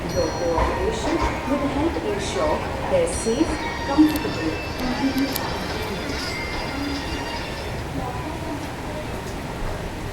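Andhra Pradesh Express running after leaving Nagpur: a steady rumble of wheels and carriage noise with faint rail squeals, under continuous talk.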